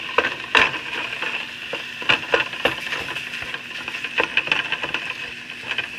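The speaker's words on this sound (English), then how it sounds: "I'm going to add the pound of hamburger that I have, and then I'm going to brown that up" A pound of hamburger meat browns in a heated pot, giving a steady, fairly loud sizzle and crackle with irregular sharp pops and scraping taps as the meat is spread out, with no talking.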